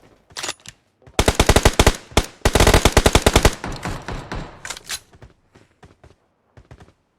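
Bursts of automatic gunfire in PUBG Mobile, loud and close, with rapid volleys broken by short pauses, then trailing into scattered single shots.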